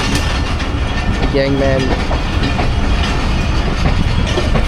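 A train rolls along the rails at Multan Cantonment railway station, with a steady rumble and rattling wagon noise, close and continuous, while someone speaks over it.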